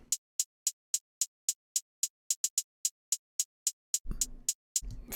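Crisp hi-hat pattern for a moombahton drum beat, evenly spaced ticks quickening into a shuffle, then a low kick and bass thump joining near the end; bright, dry and fairly quiet.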